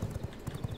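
Horse hooves clip-clop at a steady trotting rhythm in the vampire survival game V Rising, close, muffled thuds repeating quickly with no voice over them.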